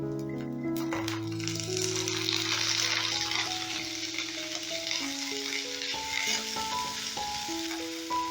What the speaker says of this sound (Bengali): বাঁধাকপিটা হালকা ভাজা হয়ে গেছে এই পর্যায়ে এসে আমি মটরশুঁটিগুলো দিয়ে দেবো